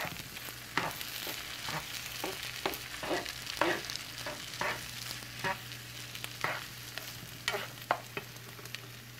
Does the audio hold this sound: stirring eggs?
yes